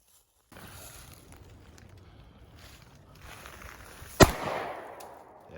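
A single sharp pistol shot rings out near the end from a Glock or Taurus handgun at an outdoor range, preceded by low wind and ambient rumble and followed by a short decaying echo.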